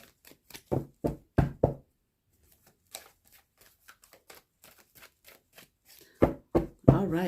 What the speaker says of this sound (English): Got more shuffles here.